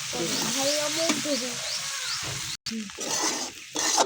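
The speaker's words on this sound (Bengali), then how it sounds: "এই দেখুন সিদ্ধ হয়ে গেছে, এখন আমি ভাজবো।" Boiled potato and vegetables frying in a pan, a close steady sizzle with some stirring and a brief break midway, while a voice is heard faintly in the background.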